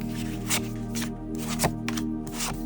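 Tarot cards riffled and shuffled by hand, then laid out, with several crisp slapping card sounds over a steady low hum and soft background music.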